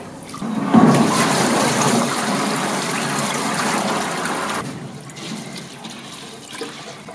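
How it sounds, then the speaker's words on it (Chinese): Tap water runs steadily into a bowl of soaking glutinous rice, a close, continuous gushing and splashing fill that stops abruptly near the end, leaving quieter dripping and handling sounds. "我把它再淘洗一下，把旧水倒掉，再重新接上新水"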